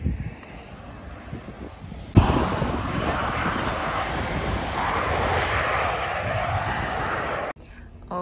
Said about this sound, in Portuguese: O avião.